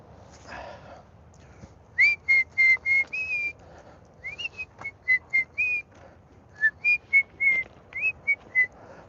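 A person whistles a simple work-song tune during a morning animal feed-up, clear and close, in bright phrases of short repeated notes with brief pauses between groups.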